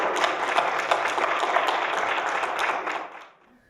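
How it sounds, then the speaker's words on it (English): Conference audience applause rings out loud and close, a brisk, dense patter of many hands that continues for about three seconds before cutting off sharply. "Let's give them a round of applause."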